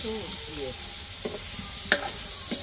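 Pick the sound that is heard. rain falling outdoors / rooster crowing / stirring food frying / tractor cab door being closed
stirring food frying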